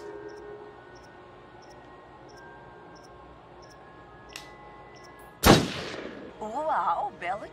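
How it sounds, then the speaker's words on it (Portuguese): A single sharp gunshot cracks out in the video game Until Dawn, loud and sudden over a faint repeating beeping and low ambient hum, followed by a swelling tone. "Uau, belo tiro, pistoleiro."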